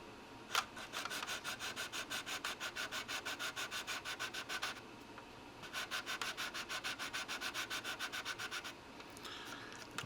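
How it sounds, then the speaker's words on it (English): Steady back-and-forth strokes of sanding sticks on a plastic model rasp close up in two long rhythmic runs separated by a brief pause, with no talking. "it's time to hit it with some sanding sticks"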